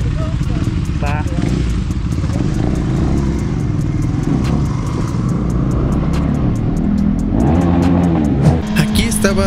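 A CB650 motorcycle engine at full throttle gives a steady, heavy, loud rumble that runs throughout, with a rising surge near the end and a voice talking over it.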